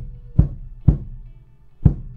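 A drum struck three times with a faux fur covered mallet, giving soft, dark, low thumps with a short resonant ring, the third hit after a longer pause, close and alone.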